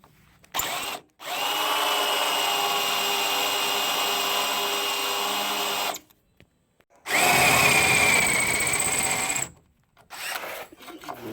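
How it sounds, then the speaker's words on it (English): A power drill bores through a rusted bolt on the rear bumper bracket of a Jeep XJ, running in two long, steady, close whining bursts separated by short pauses. "Alright, I've drilled a hole through it."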